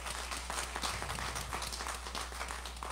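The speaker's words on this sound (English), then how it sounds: "let's give them another round of applause" Applause during a Sunday church service recognising children from a youth program, a scattered, moderately distant patter of clapping over a low steady hum.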